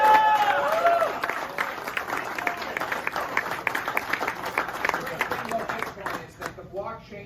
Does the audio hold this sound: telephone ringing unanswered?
no